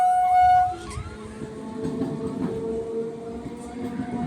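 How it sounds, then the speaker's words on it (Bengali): Rumble of a train passing a lowered railway crossing gate, a low steady rolling drone with tonal hum, after a brief loud burst at the start. "ট্রেন যাচ্ছে।"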